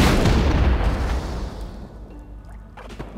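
Bombs explode in the Magicka 2 video game, one heavy booming blast that rumbles loudly and then decays over a few seconds into quieter crackles and small pops.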